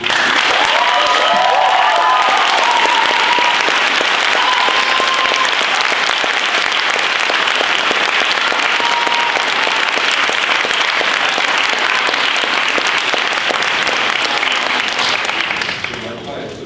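Loud, sustained applause from a packed hall at the final of a student eloquence contest, with some cheering mixed in, holding steady before easing off at the very end.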